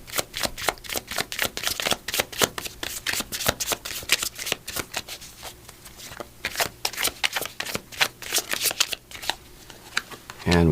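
A deck of angel number oracle cards is shuffled by hand in a steady run of quick, crisp riffling flutters, close and fairly loud, ending in a brief burst of card handling.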